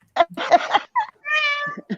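A person imitating a cat meows once, a drawn-out, wavering cry, after a few short spoken syllables, with another voice picking up right after; close and clear.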